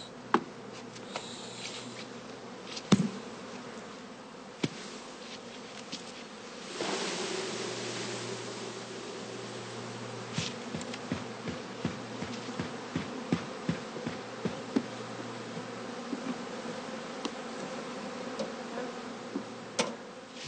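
Honeybee colonies buzz inside heather skeps at an autumn apiary, a dense, steady hum close by with scattered small ticks and knocks throughout.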